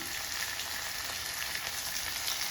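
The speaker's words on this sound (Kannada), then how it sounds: "ಈಗ ಈ ಟೈಮ್ದಲ್ಲಿ ಕರಿಬೇವು, ಹಸಿಮೆಣಸಿನ್ಕಾಯಿ ಕೂಡ ಹಾಕ್ತಾಯಿದ್ದೀನಿ" Curry leaves and green chillies frying in hot oil with onions in a pan, giving a steady, close sizzle with a bright hiss that holds level throughout, no voices.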